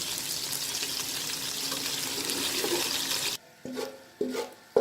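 Onions go into hot leftover ghee in a pan while cooking okra masala, giving a loud, steady sizzle and crackle for a few seconds before it drops away to quieter, intermittent bursts of frying.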